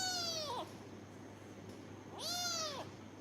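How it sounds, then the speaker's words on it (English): A six-week-old plump kitten gives two clear, high-pitched meows, the second one a drawn-out rising and falling cry, close and fairly loud over a quiet room hum. "This cat is 6 weeks old and he's so fat."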